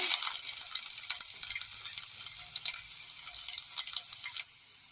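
Mustard seeds crackle and pop in hot oil for a Kerala kadala curry, a dense, continuous bright sizzle with rapid tiny pops throughout that eases slightly just before the end.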